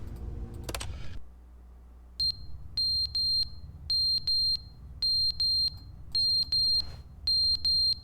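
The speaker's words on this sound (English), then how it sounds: "The alarm's going off." Beeping from a game's alarm follows a brief rattle, as high electronic double beeps sound in a repeating pattern, close and fairly loud, with no talk.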